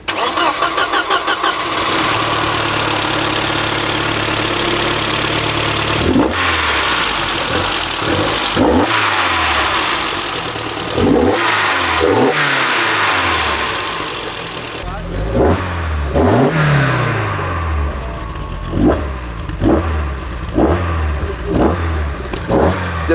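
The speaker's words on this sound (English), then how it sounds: "the best part is of course the engine, and especially the way that it sounds." A Mercedes-Benz 190 E 2.5-16 Evo 2 engine cranks and fires, then gives repeated rising revs with strong intake noise, loud and close, with someone talking over parts of it.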